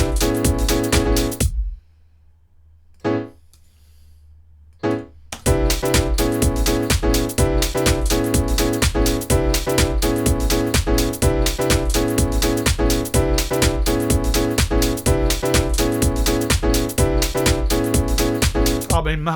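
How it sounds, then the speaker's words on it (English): Repeating house piano chord stabs from Logic Pro X's Alchemy synth play in a loud, steady rhythm, with a brief near-silent gap and a couple of isolated hits before the pattern resumes and drives on to the end. "That is the sound of house piano"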